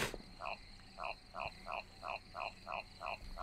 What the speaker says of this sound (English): why are there so many frogs?